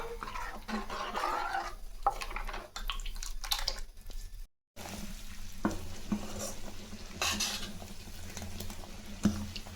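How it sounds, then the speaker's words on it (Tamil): Continuous bubbling and sizzling of water with turmeric powder boiling in a pot for dal curry, steady and close, with a brief silent gap midway. "நல்லா கொதிக்குதுங்க"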